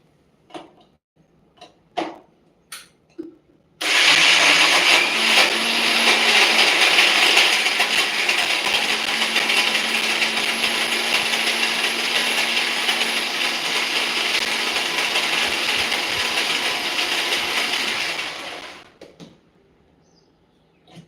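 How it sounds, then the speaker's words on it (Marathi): A kitchen mixer grinder whirring as it grinds soaked moong dal into a fine batter, a loud steady motor whine lasting about fifteen seconds between a few quiet clicks and knocks before and after. "आता हे मी मिक्सरला फक्त फिरवून आणते"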